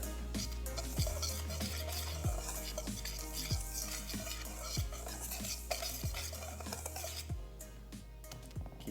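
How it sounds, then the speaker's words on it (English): Dry ingredients, including salt, are stirred together in a bowl with a utensil, giving repeated scraping and clinking strokes in an irregular rhythm, close and moderately loud, with no talk. "before you add the wet ingredients, you just want to mix that together"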